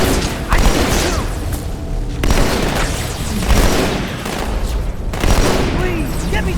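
Gunfire from the Halo 2 Anniversary video game, on the Cairo Station mission. Loud, dense volleys of shots and booms run almost nonstop, with a brief lull near the middle.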